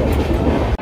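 A crowded long-distance passenger train on a Kolkata to Rameshwaram route rumbles steadily on its rails, a dense low roar with faint rhythmic clatter, cutting off abruptly near the end.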